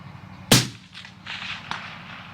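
A single sharp rifle shot from a Uintah Precision UPR-15 in .223, fired off a tripod, cracks loud and close, followed by a brief fading echo and a faint later report.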